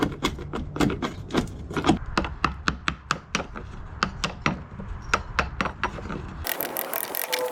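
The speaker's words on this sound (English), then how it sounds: "Then we can clean up the area with the chisel." A chisel is tapped and pared along a notch cut for a cross support in a wooden folding sawhorse, giving a steady run of about twenty sharp, close knocks and clicks with no talk.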